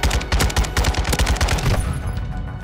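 Sustained automatic bursts from an RPK light machine gun in Modern Warfare 2, a rapid, loud, close rattle of shots for about two seconds that then trails off into quieter game ambience.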